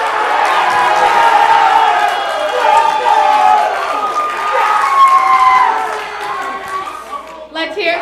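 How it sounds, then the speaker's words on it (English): Crowd of students at a campus SING! show cheering, shouting and clapping loudly as part of a poll vote, a dense sustained roar of voices that thins toward the end. "I want you guys to clap really loud if you vote for SIG."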